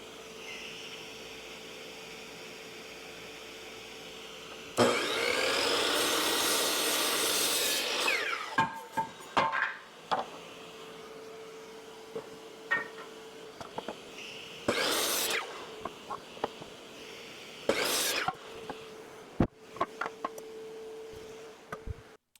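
Wood being cut into 36-inch frame pieces for a kids' stuffed animal storage build: a loud burst of sawing for a few seconds, then scattered knocks, rubs and handling of the boards, with more short cutting bursts later.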